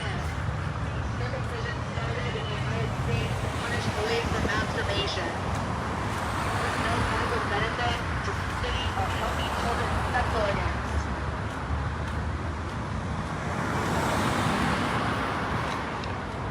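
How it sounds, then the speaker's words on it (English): Steady road traffic at a busy intersection in Springfield, PA, a continuous low roar of cars and buses rolling past, with voices and crowd chatter mixed in throughout. "you can see the traffic. It's just been building up like this all day long"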